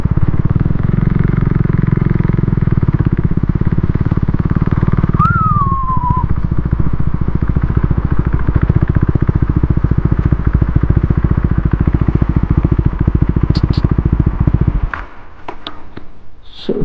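A motorcycle rides slowly and carefully over rough ground toward a lake, its engine thrumming steadily and close for most of the stretch before cutting out near the end, leaving faint clatter and ambient sounds.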